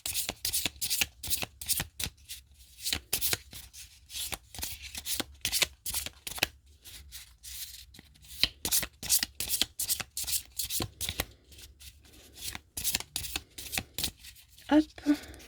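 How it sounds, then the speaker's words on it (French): A deck of oracle cards is shuffled over and over in quick riffling bursts, a steady run of close, crisp papery flutters with short pauses between them. "je vais battre les cartes."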